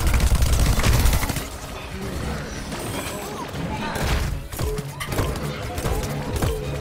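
Rapid gunfire and thudding impacts from combat in the video game Plants vs Zombies Garden Warfare 2, loud and continuous with dense game noise and background music underneath, while a player talks excitedly over it.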